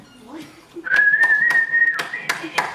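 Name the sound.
imitated whistling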